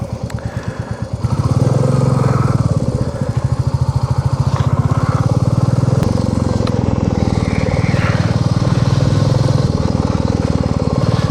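A motorcycle rides along a road. Its engine is loud and close, and the throbbing roar rises after the first second, then holds steady and strong under wind noise for the rest of the ride.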